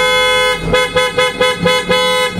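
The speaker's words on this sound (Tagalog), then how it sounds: "testing natin ulit mga kabossing, no? Ano kalakas ang ating horn." Auto-style car horn being tested at an auto accessories shop, a loud, close, steady honk with a rapid rhythmic pulsing running through it.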